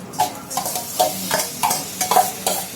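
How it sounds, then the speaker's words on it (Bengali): Washed moong dal is stirred in a kadai over gentle heat with rhythmic scraping strokes roughly every half second. The sound is close, with a light sizzle underneath and no talking. "এই মুগ ডালটা ধুয়ে রেখেছিলাম, তো এটা একটু নেড়ে নেবো আর কি, কড়াতে অল্প হালকা।"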